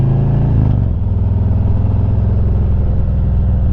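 A loud, deep Harley-Davidson motorcycle exhaust rumbles close by, a revving blip settling into a throbbing, lumpy idle.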